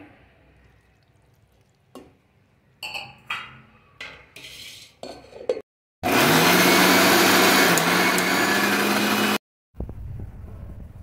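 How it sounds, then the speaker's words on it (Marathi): A mixer grinds onion, garlic, ginger and coriander for a mutton sukka recipe, a loud steady whirring burst of about three seconds, preceded by clinks and scrapes of utensils and followed by a brief resumption. "कांदा, लसूण, आलं आणि कोथिंबीर हे सुद्धा वाटून घेऊया।"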